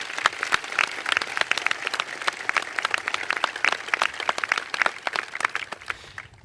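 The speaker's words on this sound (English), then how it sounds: "Let's give them a round of applause for their service." An audience at a high school commencement ceremony gives a round of applause. The clapping is dense and steady, with many sharp individual claps and no other sound.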